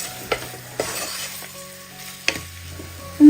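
Tomatoes sautéing in a pan give a soft steady sizzle, broken by a few sharp clinks of a spoon against the pan and a louder scrape at the end.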